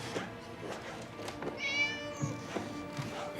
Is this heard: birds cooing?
no